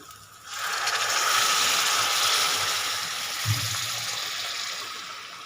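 Hot water is poured into a pan of frying masala curry for a besan vadi dish, giving a loud steady hiss and splashing rush that sizzles and then slowly fades.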